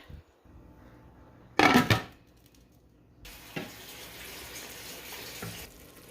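Tap water gushes briefly into a pot of cooking noodles, a loud splashing burst, followed by a longer, softer stream of running water and a faint clink, then quiet.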